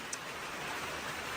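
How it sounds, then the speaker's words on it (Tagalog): Steady rain falling on a quiet day in Equatorial Guinea, a dense even hiss of drops throughout with no voices. "maulan ngayon pero kayo ng umaga, maaraw"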